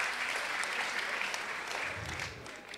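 A crowd at a comedy event applauds the Rwanda police, a dense, loud, continuous clapping that holds steady for a few seconds, then eases slightly.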